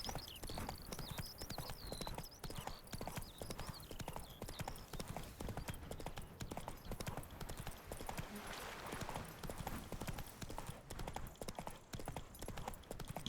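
A horse gallops in a video game, its hooves pounding in a fast, steady, even clip-clop rhythm that runs throughout, with a brief neigh-like squeal near the start.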